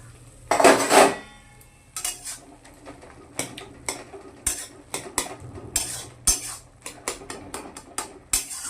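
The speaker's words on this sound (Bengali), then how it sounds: "চল তাহলে ঢাকনাটা খুলে একবার দেখে নেওয়া যাক" A lid comes off a pot of fruit chutney in a home kitchen, giving one loud metallic clatter, then a string of sharp clinks and taps of cookware and utensils that recur irregularly until the end.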